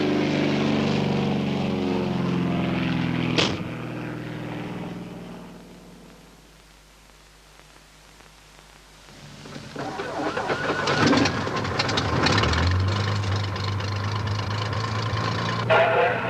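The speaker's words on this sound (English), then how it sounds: "A shark spotter plane, sponsored by a local radio station, takes off twice daily" A propeller-driven shark spotter plane takes off: a droning engine with steady harmonic tones, a brief lull, then a swelling broadband roar and a rising tone as it powers up, fairly close and loud throughout.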